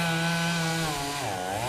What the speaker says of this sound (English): Chainsaws cut through the tree and crews handled the downed wires.